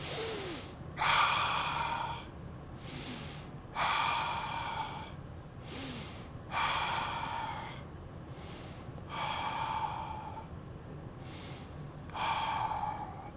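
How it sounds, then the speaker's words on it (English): Slow breathing during a seated stretching exercise, five long breaths drawn in with clear airy rushes at an even pace of roughly every two and a half seconds, close and alone with no talk. "Stretch your back straight and breathe in."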